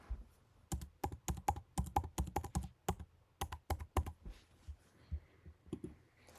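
Distinct close keystrokes on a computer keyboard as a mailbox password is entered, a quick run of sharp clicks in uneven bursts with short pauses, then a few scattered taps near the end.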